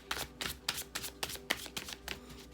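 Tarot cards being shuffled by hand in a series of quick, crisp riffling bursts at a steady rhythm, close and fairly quiet, with no talking.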